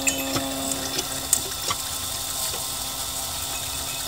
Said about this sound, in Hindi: तो हैंडपंप को चलाओ।